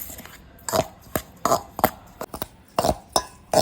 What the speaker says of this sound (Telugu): ఇప్పుడు ఇవన్నీ ఒకసారి కలిపేసుకుందాం